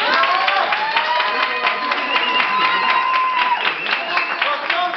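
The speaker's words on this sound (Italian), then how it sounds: "Facciamo un grande applauso." Audience applause at a bar quiz night in Gela, a loud, steady clatter of clapping mixed with crowd noise and cheering, running the whole time with voices in the mix.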